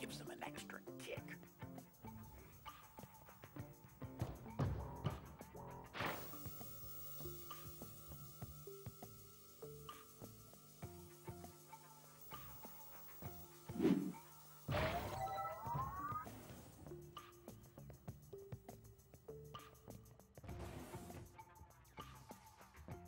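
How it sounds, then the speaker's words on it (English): Glass smashes inside the video game Quantum Conundrum, a sharp crash and shatter burst standing out mid-clip amid game sounds and a talking voice. "the breaking of this glass is a necessary evil"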